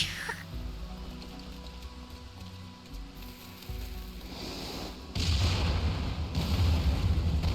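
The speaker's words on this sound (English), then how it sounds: "never let it be said that they do half measures with their explosions" Deep rumbling explosions clearing a barricade in Final Fantasy XIV: Heavensward roll on continuously, growing louder and heavier partway through as a big blast hits, with faint chatter underneath.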